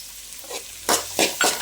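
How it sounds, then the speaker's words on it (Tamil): Onions sizzling as they sauté in a hot pan while a spoon stirs and scrapes, with three sharp stirring scrapes near the end. "சேர்த்து நல்லா வதக்கிக்கலாங்க."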